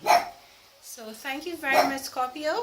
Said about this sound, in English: a dog making noise